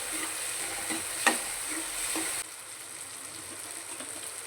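Chopped tomatoes cook in a pan for Punjabi-style masala macaroni, giving a steady close sizzle with a couple of stirring scrapes. The frying quiets partway through.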